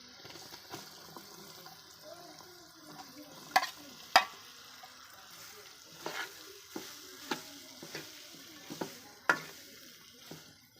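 Spiny gourd (kantola) is tossed into hot oil with garlic in a village kitchen and fries with a steady sizzle, broken by repeated scraping stirs and clinks of the spoon against the pan.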